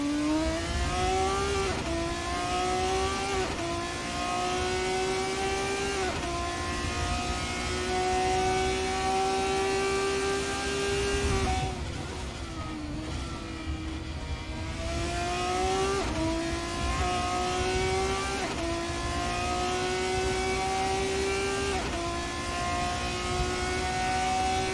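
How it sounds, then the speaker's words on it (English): A single race car engine in a racing video game screams continuously on the St. Petersburg, USA circuit, pitch climbing through gears and dropping at shifts, with brief lulls in braking zones as it laps. "Just enjoyed shutting up for a moment and listening to the car go around."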